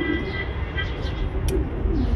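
A pigeon gives soft, low coos up close while its nails are clipped, with a person talking over it throughout.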